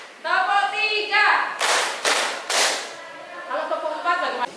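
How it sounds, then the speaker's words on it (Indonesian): Three sharp hand claps in quick succession during a classroom clapping game, loud and close, with a speaking voice just before and after them. "Kalau tepuk 3, kanan, kiri, atas."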